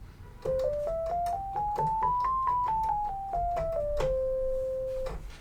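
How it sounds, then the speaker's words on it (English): A run of clean single notes climbing steadily up a major sixth bebop scale and stepping back down at an even pace, finishing on a long sustained tone. "would be the major 6 bebop scale"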